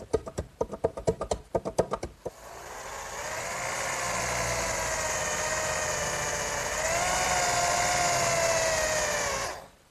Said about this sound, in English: I'll just do that with my block plane.